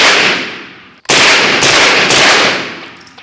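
A Springfield KUNA pistol caliber carbine fires a quick string of close, loud shots, one booming report and then three rapid cracks, each echoing away outdoors.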